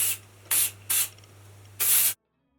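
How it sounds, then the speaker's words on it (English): Texture spray is sprayed onto second-day hair in four short hissing bursts, the last one longest, close and clear with no talking, then silence. "then I just go in with a texture spray"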